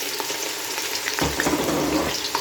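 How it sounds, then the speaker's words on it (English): Red and white onions dropped into hot oil left from frying meat and fish for a Nigerian goat meat stew, a steady sizzle that swells sharply after a splash partway through. "I'm just going to put in some red and white onions"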